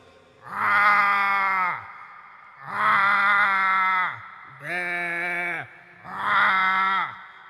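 A human voice mimics a big cow lowing in four long, drawn-out, steady calls with short pauses between them. They are close and fairly loud, with no other sound.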